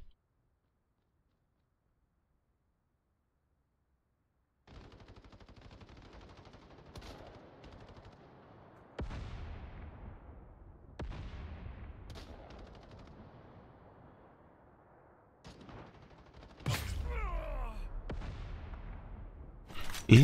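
Gunfire in the video game Battle Teams 2: silence at first, then a run of sharp shots and bursts, with louder cracks spaced out and a heavy burst near the end.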